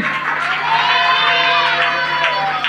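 A church congregation cheering and shouting together in one sustained, loud burst that rings with a reverberant tonal hum, with no distinct clapping standing out.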